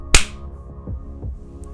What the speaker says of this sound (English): I'm going to clap my hands.